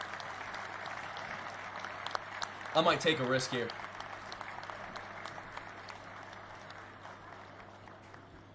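An audience at a live stock-trading event claps faintly in the background while someone talks over it. A brief louder burst of sound comes near the middle.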